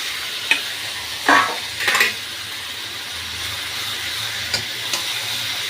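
Marinated mutton for kosha hits hot spice paste in a pan, giving a steady low sizzle with a few brief stirring scrapes and clinks scattered across the clip, nearby and moderately loud.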